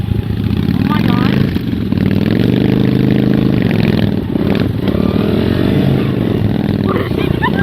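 Motorcycle engine running steadily throughout while riding a dirt bike trail, with a 1000 Virago also on the ride; the engine hum stays continuous and fairly loud, with speech over it.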